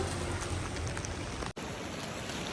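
Heavy rain falls in the mountains as a dense, constant roar of broadband noise, close and loud, with one brief dropout in the middle.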